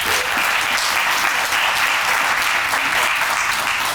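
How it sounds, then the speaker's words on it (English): Audience applause at a ribbon cutting ceremony for a new development: loud, dense clapping that holds steady for the full length, with no one speaking over it. "Let's give them a round of applause."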